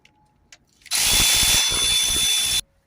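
A power tool whirs loudly up close in one sustained burst of under two seconds while removing the 8mm top bolts on a Peugeot Partner 1.9D diesel engine, with quiet handling noises before and after.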